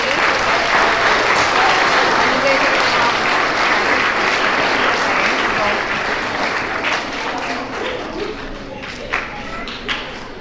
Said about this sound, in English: a final round of applause for 4th grade